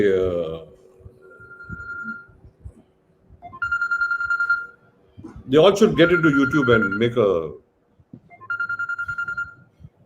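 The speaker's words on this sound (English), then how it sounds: "Do you want to answer the phone?" A telephone rings during a live music chat show, short repeated electronic ringtone bursts coming in several separate rings between and over people talking.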